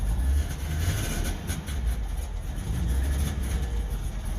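A two-stroke vehicle engine runs steadily with a loud low rumble and a continuous mechanical drone, close by, without a clear change in pace.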